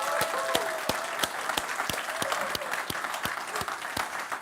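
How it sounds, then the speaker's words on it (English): Sustained audience applause at an awards finale for a student challenge, steady and dense clapping with sharp individual claps standing out, a few whoops mixed in, no talking. "give a nice round of applause to the Ideation category"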